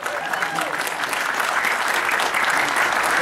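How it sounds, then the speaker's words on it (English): A large audience at a Northern Kentucky music hall of fame induction ceremony gives a dense, steady round of applause for a gospel vocal group, loud and continuous throughout with no pauses. "One more time, ladies and gentlemen, a nice round of applause."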